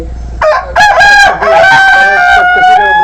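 A tiger-breed rooster on a farm lets out a loud, close crow in several sustained, rising-and-falling bursts, filling the short moment with strong, piercing tones.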